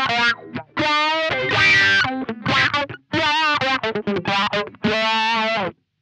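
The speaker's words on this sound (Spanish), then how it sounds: "Escucha ahora con el filtro prendido." Electric guitar with mild Marshall-style distortion running through an Earthquaker Devices Spatial Delivery envelope filter pedal, giving a funky auto-wah sweep on each loud, rhythmic chord stab and short riff, played alone.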